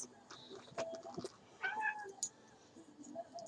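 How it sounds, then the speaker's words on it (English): A domestic cat meows several times in short, separate calls, fairly close and moderately quiet, over a quiet room. "This is my pretty kitty."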